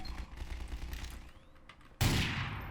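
Marksman rifle fire from the J.I. Defense Solutions mod in Garry's Mod: a sharp, loud shot that cracks out suddenly and rolls off in a short echoing tail after a stretch of quieter game noise.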